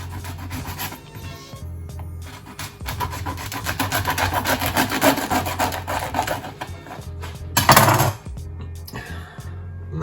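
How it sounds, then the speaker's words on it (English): A knife saws and scrapes through the tough, hard shell of a granadilla passion fruit, producing steady raspy rubbing strokes close up, with a louder crunchy burst near the end as the blade breaks through. "now this is tough. Hear it? Right, so I'm going to cut it from the top"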